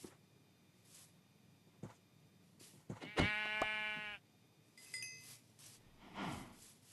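A Minecraft sheep bleats once, loud and close, in the video game, amid a few clicks and scattered quiet game noises.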